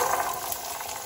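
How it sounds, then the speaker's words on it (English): Carrots dropped into heated oil in a pan for homemade tomato soup, a soft steady hiss of sizzling that stays even and fairly quiet throughout. "So we're going to be dumping in the carrots."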